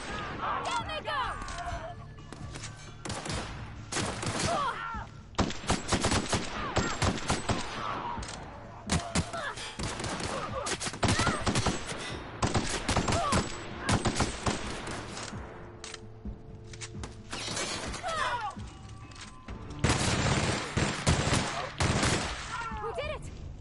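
Rapid gunfire bursts and shots from The Outer Worlds, a sci-fi shooter game, crackle loudly and almost continuously in dense volleys with brief lulls, under occasional game speech and a player's voice.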